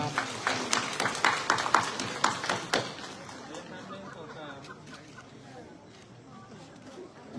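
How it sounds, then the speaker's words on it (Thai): Applause at a Thai community ceremony held by a district Buddhist monastic order, a burst of sharp clapping for about three seconds that fades into quieter room murmur and talking. "ปรบมือครับปรบมือครับ"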